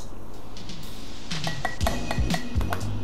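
Teriyaki-style sauce with mirin is stirred in a bowl, a utensil clinking and scraping against the dish in a quick run of bright taps after a quiet start.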